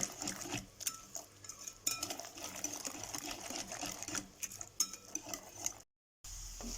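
Potato and pepper breakfast mixture with red and green peppers being stirred in a pan, giving repeated scraping and clinking strokes with a soft sizzle underneath, close and steady with no talk.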